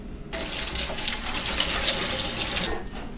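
Steady, loud running tap water splashing into a sink, continuous for a few seconds, then cutting off abruptly.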